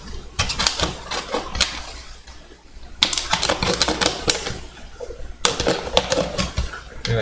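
A hard plastic bottle being cut, giving rapid crackling, snapping bursts in three close, loud runs separated by brief lulls, with no speech.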